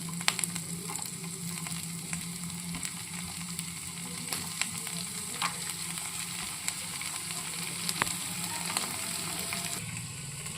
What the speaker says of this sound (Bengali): হালকাভাবে ভেজে নেবো বেশি ভাজবো না খুবই হালকাভাবে ভাজবো দিয়ে দেবো রসুন কুচি